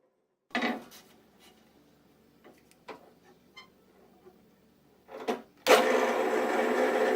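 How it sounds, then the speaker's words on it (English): A drill bores a hole through the aprons of a cherry kitchen table. A few light taps and clicks come first, then a loud, steady, close whirring grind starts near the end and continues. "drill a hole through the aprons on center through both aprons"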